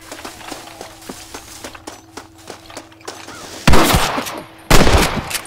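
Gunfire in the Western video game Red Dead Redemption: a steady run of about a dozen sharp, evenly spaced shots, then two loud, close blasts with long echoing tails near the end.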